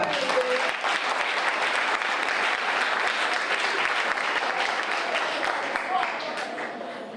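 A school audience at a Cross Keys High School prize giving and awards ceremony applauds its students, a broad crowd of steady clapping that holds strong before tapering slightly at the end.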